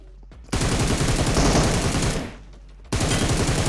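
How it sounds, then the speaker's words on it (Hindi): Loud automatic gunfire in a PUBG-style battle royale shooter, two sustained rapid bursts separated by a brief lull, close and harsh. "सामने से फायरिंग की साउंड आ रही थी"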